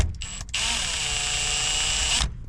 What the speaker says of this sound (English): we're going to remove these screws right here